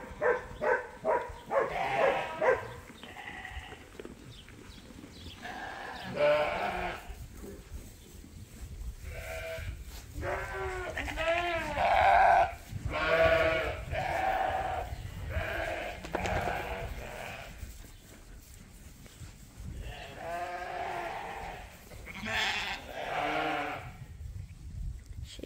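A mixed flock of Suffolk and Dorset sheep on a farm bleats over and over, some calls close and loud, others farther off, with quiet gaps between them.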